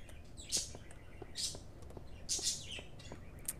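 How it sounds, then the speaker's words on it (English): A pet bird chirps indoors in quick bright bursts, several high tweets spaced through the moment, fairly close and clear over a faint room hiss, with no talking. "my bird is quite happy that I am doing recordings now. So she's chirping incessantly."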